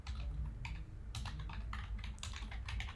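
Rapid, irregular clicking of keys on a computer keyboard while entering code, close and fairly quiet, with brief pauses between bursts of keystrokes.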